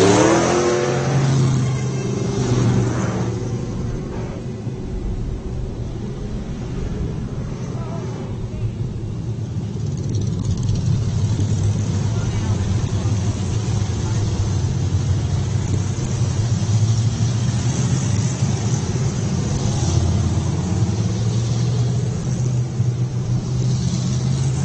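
Race cars accelerating around a track during the Ice Breaker race, engines revving and droning in repeated rising and falling waves, continuous and moderately distant, with a commentator talking over them at times.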